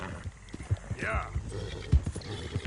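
A horse ridden in Red Dead Redemption 2 clops along in brief hoof beats, with a short whinny-like cry partway through, while a rider talks over it.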